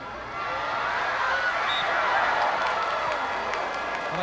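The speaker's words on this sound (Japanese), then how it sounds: "一応温かく拍手していただいて" Spectators at a high-school football match between Teikyo and Yokkaichi Chuo Kogyo give a warm round of applause. The clapping is a soft, diffuse wash from a distant crowd that swells in and holds steady at moderate volume.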